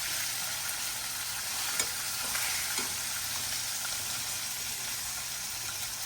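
Deer backstrap sizzles steadily in hot grease in a pan, a loud, continuous hiss with an occasional soft pop and no voices.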